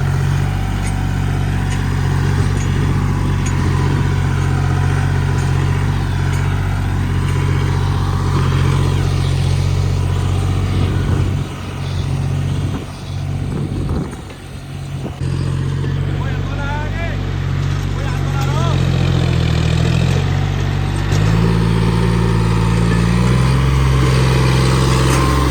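A 1991 Eicher tractor labouring under a fully loaded trolley of harvested paddy, its engine drone steady and heavy for the whole stretch, loud and close, with a voice talking over it.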